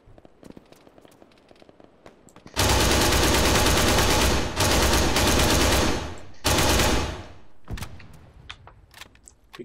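Navid machine gun in Arma 3, King of the Hill mode, fires long, loud, unbroken automatic bursts for about five seconds, with one brief gap, then stops, leaving scattered distant gunfire.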